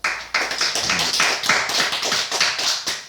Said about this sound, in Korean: 잘 대답하신 분들이 박수 한번 보내주시겠습니다